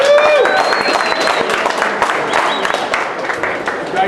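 Crowd applause and cheering at a BMX 40th anniversary celebration in Long Beach, a steady, dense round of clapping with whoops lasting the whole stretch, close and loud.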